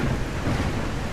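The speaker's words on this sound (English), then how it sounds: "It's a little windy." Wind outside in the survival video game Surroundead, a continuous loud rushing roar with a low, surf-like rumble, steady and close with no speech.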